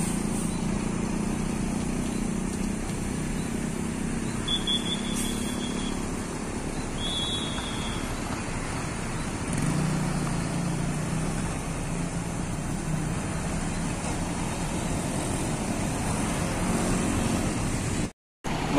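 A DMH Trans tour bus pulls in at Galendo 2, Ciamis, a steady low engine rumble with broadband road noise, fairly distant and even throughout, with a couple of brief faint high tones.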